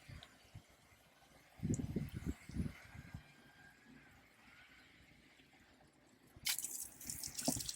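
Fresh water poured into the bowl of a portable toilet inside a Ford Transit camper van, heard as a couple of short splashing pours near the microphone, with quieter gaps and a brighter trickle toward the end.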